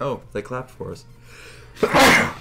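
A single loud, explosive sneeze bursts out near the end, after a few spoken words at a chess game.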